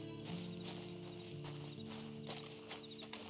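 Horse hooves clip-clop at a steady walking rhythm in the Western video game Red Dead Redemption 2, a quiet, continuous patter under a low ambient backdrop, with no talk over it.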